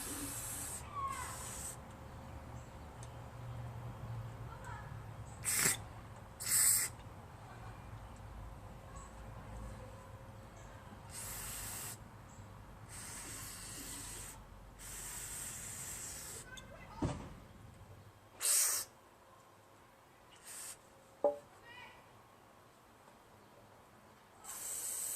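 Lucas Oil product sprayed from a can onto a Briggs push lawn mower's carburetor, a series of short, sharp hissing bursts standing out against a quiet background.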